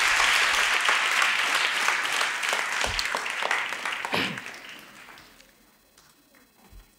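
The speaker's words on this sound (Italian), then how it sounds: "la accogliamo con un bel applauso per quello che ci vorrà dire" An audience applauds a guest speaker at an Italian gathering, with steady, dense clapping that holds strong for several seconds, then thins out and fades to near quiet, leaving a few scattered claps at the end.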